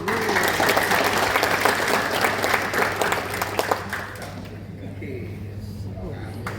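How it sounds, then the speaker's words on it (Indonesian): Audience applause at an inauguration ceremony for an association's board in a hotel ballroom in North Sumatra, a steady crowd clapping that holds for about four seconds before dying down to room murmur and a low hum. "kita kasih tepuk tangan sekali lagi Bapak Ibu"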